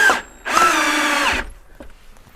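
A power drill drives a screw up into a wooden stair tread from underneath: a short burst, a pause, then a longer steady whirring run of about a second, loud and close, followed by faint handling clicks.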